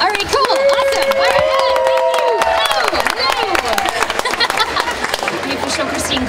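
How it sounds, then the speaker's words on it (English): Audience clapping at a live horror festival performance, a burst of applause with scattered cheers and voices mixed in, fairly loud and close, lasting the whole stretch. "The official Christine clap"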